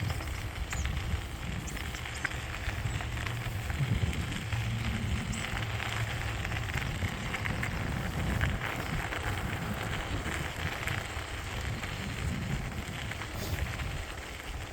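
Strong wind buffets outdoors, a dense rumbling roar with gusty low-end surges and broadband rushing noise, continuous and close for the whole stretch.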